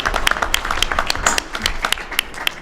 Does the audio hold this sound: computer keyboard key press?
no